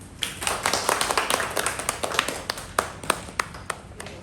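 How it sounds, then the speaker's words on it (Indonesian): A small group claps after a presentation, starting as quick overlapping applause and thinning into scattered, slower individual claps that fade out. "Kasih tepuk tangan."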